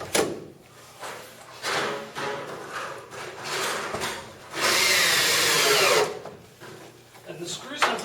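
Screws are driven into pine with a power drill in a studio build, brief whirring bursts followed by one long, louder drive, with knocks and handling clatter between them and people talking at times.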